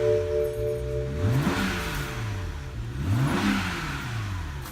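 A BMW 335i E92 engine revs twice after an intercooler install, each rise and fall clear and close, with steady idle between the pulls and no talking.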